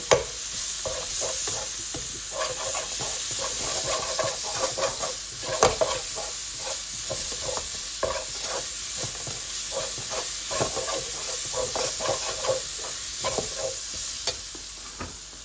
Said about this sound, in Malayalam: one and half teaspoon ginger garlic paste so we need to just saute